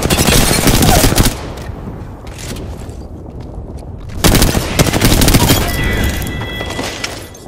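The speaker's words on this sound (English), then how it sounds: "Shot fired." Heavy automatic gunfire in the battle-royale shooter Apex Legends, loud and dense in two long bursts separated by a quieter stretch of scattered shots, with faint voices underneath.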